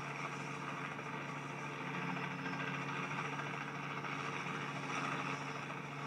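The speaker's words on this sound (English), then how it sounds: "This is like one of those private helicopters." A steady, droning private helicopter engine hum with rotor throb in Just Cause 2, constant and moderately loud, with no talking over it.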